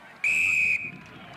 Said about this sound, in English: that's a heavy whistle.